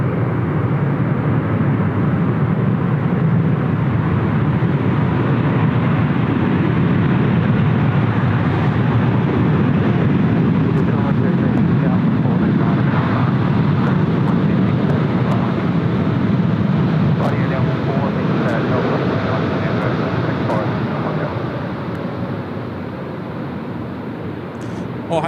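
An Air New Zealand airliner arriving on runway 16R at Sydney Airport gives a long, loud, steady roar that swells and then slowly fades, with wind buffeting the microphone throughout.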